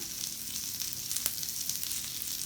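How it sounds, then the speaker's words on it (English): Red onion sizzling on a grill pan, a steady close hiss with small crackles and one brief sharper pop. "So I've got red onion, and I'm going to throw that on the grill pan."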